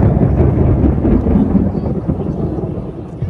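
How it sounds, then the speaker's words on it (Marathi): Deep, continuous thunder rumbles loudly throughout over Varanasi, a heavy low roar with rolling swells and a faint hiss of wind or rain beneath. "ऐकलात एवढा ढगांचा गडगडाट ऐकू येतोय."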